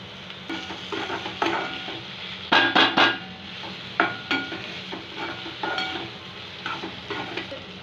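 Radish and capsicum masala being stir-fried in a pan, with a spoon scraping and clattering against the metal in bursts over a steady sizzle, and a cluster of sharp knocks in the middle.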